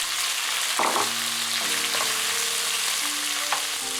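Shrimp frying in hot oil with chopped garlic for Chinese stir-fried noodles, a steady close sizzle with brief tonal clinks and scrapes from stirring, no talking.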